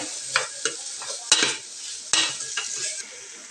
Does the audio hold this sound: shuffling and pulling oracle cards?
no